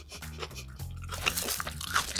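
A lettuce wrap with yellowtail sashimi is chewed close to the mic, giving wet, crunchy bites and mastication in a continuous uneven rhythm.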